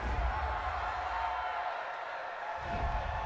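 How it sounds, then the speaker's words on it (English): A home football crowd in a stadium roars approval at a referee's call during an Atlanta Falcons versus Philadelphia Eagles game, with a broad, steady cheering swell and low rumble that dips briefly and then surges again. "This home crowd, they're happy with that call."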